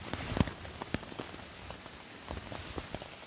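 Steady rain patters on a tent in wet weather, a dense hiss broken by scattered nearby drips and a few sharper louder drops landing on the fabric, with no talking.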